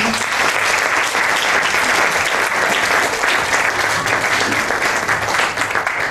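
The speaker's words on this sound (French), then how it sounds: "Nous vous demandons de bien vouloir l'accompagner par vos acclamations." Sustained, dense applause from a large audience at a formal ceremony carries on evenly and loudly throughout, with no voices standing out.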